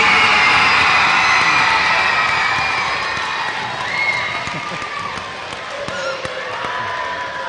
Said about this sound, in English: Can we please get a round of applause for our very own Mr.